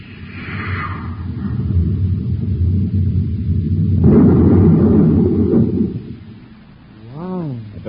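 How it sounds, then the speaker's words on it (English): A space torpedo fired in an old-time radio drama, heard as a long, heavy rumbling roar that builds and swells into an explosive blast, then fades before a wavering, sweeping electronic tone rises near the end. "Stand by to fire space torpedo."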